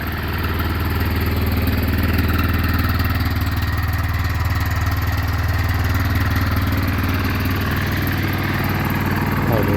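The engine of a Yamaha Wolverine 450 ATV runs steadily after starting, a continuous close mid-pitched putter with a loud even drone and a rattling edge throughout.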